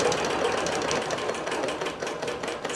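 A computerized quilting machine sews a mirrored border pattern on a quilt, giving a loud, steady mechanical hum with rapid rhythmic stitching pulses, close and uninterrupted throughout.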